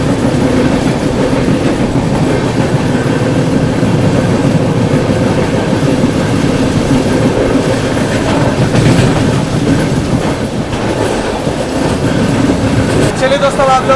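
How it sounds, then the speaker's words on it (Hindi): The Chhapra–Durg Sarnath Express rolls past at a station, a loud continuous rumble of wheels and carriages with rhythmic rail clatter and a faint squeal near the end. "सामने से आ रही है आप लोगों की छपरा से चलकर दुर्ग की ओर जाने वाली छपरा दुर्ग सारनाथ एक्सप्रेस"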